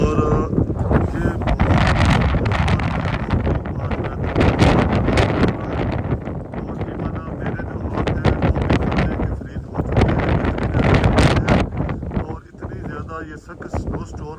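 Strong wind from a heavy snowstorm in Canada roars and buffets the microphone continuously, loud and gusting throughout, with no clear voices over it.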